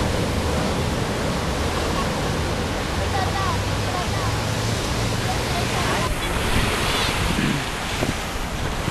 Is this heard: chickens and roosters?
no